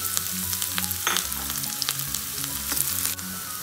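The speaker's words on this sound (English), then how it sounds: "I let it turn little light golden brown and will temper our khichdi with this lila lasan." Green garlic (lila lasan) sizzles in a tablespoon of ghee in a kadai for spinach khichdi, a close, continuous crackling fry with occasional stirring scrapes and no talking.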